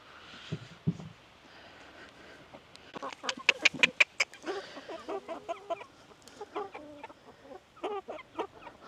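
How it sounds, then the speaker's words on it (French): Loud, rapid honking and cackling from a flock of greylag geese, calls overlapping in bursts, with a voice speaking softly at the start. "Des oies grises."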